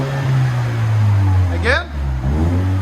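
A 2016 Lexus IS 200t with a 2.0L turbo engine and a deleted muffler revs loudly up close. Its deep drone climbs, dips sharply, and then swells again with a raspy exhaust tone.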